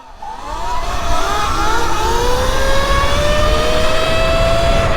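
Sur Ron 72v electric dirt bikes launching in a race, a loud rising electric whine climbing steadily in pitch over heavy wind and drivetrain rumble, close and continuous for several seconds.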